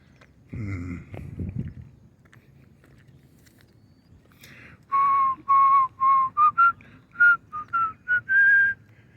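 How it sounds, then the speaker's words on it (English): A person whistles a short series of clear, fairly high notes in quick succession, near and loud, after a brief low rumble and some quiet background noise. "I can't whistle that high."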